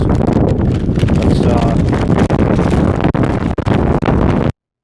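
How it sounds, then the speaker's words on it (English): Loud rumbling gusts buffet the microphone throughout, a constant roaring wind noise with brief dips near the end. "it's windy out here"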